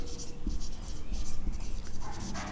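A pen writes out a mathematics solution on paper, giving soft, close scratching strokes in short irregular bursts.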